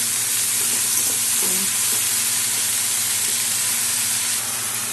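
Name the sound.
mixed vegetables frying and being stirred in pan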